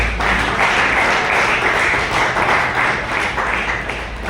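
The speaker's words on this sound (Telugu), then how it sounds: "క్లాప్ చేయొచ్చు" An audience at a leadership training session claps, a loud, close, continuous burst of applause from a roomful of people with a slight pulsing rhythm, fading a little toward the end.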